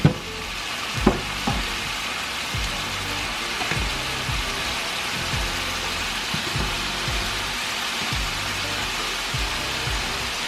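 Meat and vegetables fry in a pan with a steady, close hiss and sizzle, broken by regular clacking knocks of stirring every second or so, with no talk.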